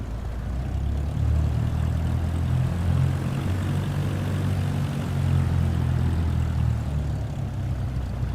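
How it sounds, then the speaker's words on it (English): Steady propeller drone of a Cessna light aircraft's piston engine during takeoff in Microsoft Flight Simulator 2024, a continuous loud low hum with no voices. "Sierra Traffic Cessna, November 50237, taking off runway 8 departure to the west."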